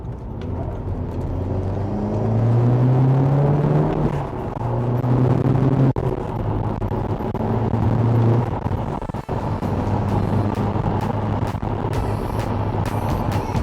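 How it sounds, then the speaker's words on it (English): Sunday road traffic rolls past, cars and trucks rising and falling as they pass close by, with engine whine, tyre roar and a hiss like an air brake, and no talk. "Sunday traffic."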